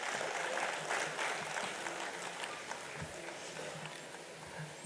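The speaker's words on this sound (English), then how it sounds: "Can we have a huge round of applause for all these people on the dais" Audience at a national accountants' convention applauding the people seated on the dais, a dense, fairly faint wash of clapping that holds steady from start to finish.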